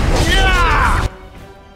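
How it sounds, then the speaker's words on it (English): A Crushing Prison spell strikes a gang leader in a Dragon Age: Origins battle on Nightmare difficulty, a loud dense crunching impact with a shimmering swirl that holds for about a second and then cuts off abruptly to near silence. "on the gang leader, we can do Crushing Prison"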